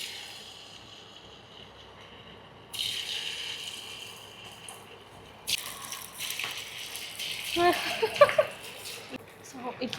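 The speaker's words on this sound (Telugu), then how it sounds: "ఇప్పుడు మనం ఇవి వేసేసుకుందాం పన్నీర్ డీప్ ఫ్రైకి" Paneer pieces dropped into hot oil for deep frying, a quiet hum giving way to a sudden bright sizzle that swells and crackles with bubbling pops.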